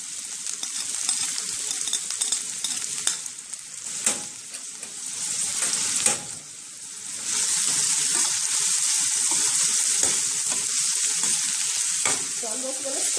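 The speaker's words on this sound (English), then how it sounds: "I'm gonna put the chopped garlic to this." Chopped garlic sizzles steadily in a frying pan with occasional stirring scrapes, the frying hiss growing fuller and louder in the second half.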